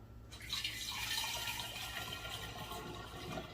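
Homemade almond milk poured from a bowl through a funnel, a steady faint gurgling trickle of liquid running continuously for a few seconds in a quiet kitchen.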